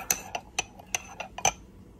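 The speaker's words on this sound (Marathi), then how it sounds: "अशा पद्धतीने दही चांगलं फेटून घ्यायचं आहे" A spoon or whisk beating curd (yogurt) in a bowl for an egg korma, making a series of light, irregular clinks and taps against the bowl, close and fairly quiet, with no talk.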